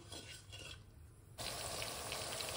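Whole spices (green cardamom, bay leaf, cloves and one dried red chili) fry in hot oil, giving a soft steady sizzle that jumps louder partway through and keeps crackling with no talk.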